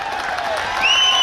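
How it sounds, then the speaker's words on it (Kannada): Applause and cheering from the crowd at a kabaddi grand final in Padmanabhanagar, a steady wash of clapping that swells louder near the end and carries a rising whistle. "ಒಂದು ಜೋರ ಚಪ್ಪಾಳೆ."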